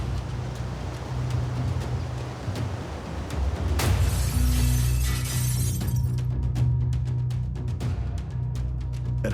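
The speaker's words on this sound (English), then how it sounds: "the sound of shattering windows can be heard on deck 9" Windows shattering aboard a cruise ship: a sharp burst of breaking glass over a steady low engine and wind rumble, followed by scattered tinkling fragments and clicks.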